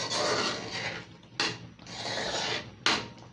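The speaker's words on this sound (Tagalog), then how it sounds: "Haluin natin mabuti mga friends." Champorado with sugar and powdered milk stirred in a pot, a near scraping, rubbing sound in long strokes broken by two sharp knocks of the spoon against the pot.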